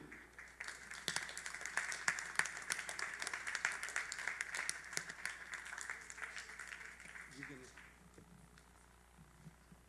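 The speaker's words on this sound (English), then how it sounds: "Please give them another round of applause." An audience at a live church service applauds presenters Jim and Nate, a steady crowd clapping that sounds fairly distant and faint, with a voice heard briefly before the applause fades.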